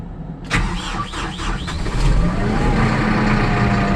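A Kubota tractor engine cranks repeatedly in a rhythmic starter whine, struggling before it catches and settles into a steady, fairly loud low idle with no one talking.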